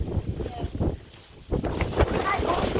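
Gusty wind on a foggy stretch of the Appalachian Trail buffets the microphone with a steady low rumble, swelling and dipping over a few seconds.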